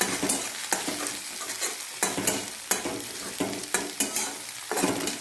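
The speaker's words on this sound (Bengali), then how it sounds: "এটা একটু হালকা ভাজা ভাজা করবো।" Ginger, garlic and green chilli frying in hot oil in a wok, a steady sizzle broken by repeated scrapes and clinks of stirring at an uneven rhythm.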